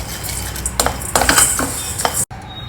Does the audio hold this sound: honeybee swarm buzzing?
no